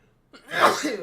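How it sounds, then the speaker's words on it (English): A single sharp human sneeze bursts out after a brief silence, loud and close, with a breathy rising onset and a trailing exhale, alone without talk. "I'm gonna start sneezing now, guys"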